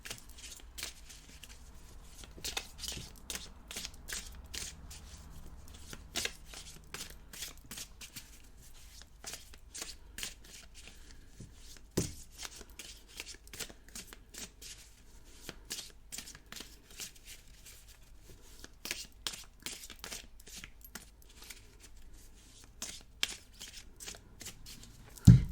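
Tarot cards being shuffled for a reading, a steady run of crisp riffling and slapping bursts with brief pauses, close and moderately quiet, no voices.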